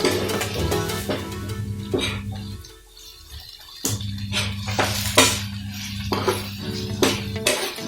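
A spoon clatters and scrapes against a pan as corn flour is stirred into mustard greens cooking over a low flame, with repeated sharp knocks and scrapes, close and no talk.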